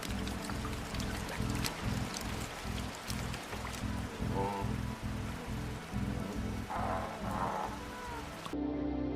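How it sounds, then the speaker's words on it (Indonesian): Heavy rain pours steadily through a film scene, a dense hissing wash over a low, rhythmic rumbling drone. It is loud and continuous and cuts off abruptly near the end. "Hujan pun turun cukup lebat yang membuat perjalanan mereka semakin berat."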